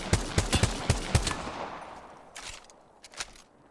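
Gunfire in the video game Apex Legends: a quick run of about eight sharp shots, then a pause and a few more scattered, quieter shots, with no talking.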